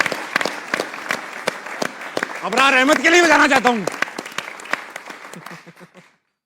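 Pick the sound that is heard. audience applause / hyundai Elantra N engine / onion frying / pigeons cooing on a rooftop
audience applause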